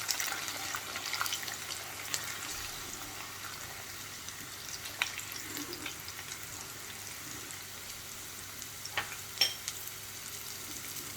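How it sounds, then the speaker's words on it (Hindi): Garlic frying in hot oil for a South Indian tomato achar, stirred with a spoon: a steady low sizzle runs throughout with scattered scraping clicks of stirring, no voices. "और इसको हिलाना है जब तक ये लहसुन थोड़ा सा गुलाबी नहीं हो जाता"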